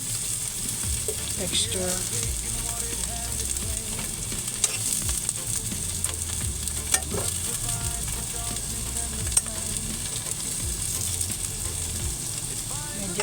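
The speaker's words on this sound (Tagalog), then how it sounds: "Medyo ipapaano ko lang siya, piprito ko lang siya ng konti para medyo may pagka brown" Steak pan-frying in a little oil to brown, giving a continuous close sizzle and crackle with occasional scrapes and clicks of utensils, and brief talk over it.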